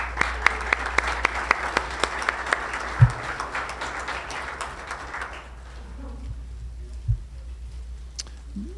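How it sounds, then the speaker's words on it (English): An audience at a community meeting gives a round of applause, brisk sustained clapping for about five seconds that tapers off into a quiet room with a few faint knocks. "let's give them a round of applause"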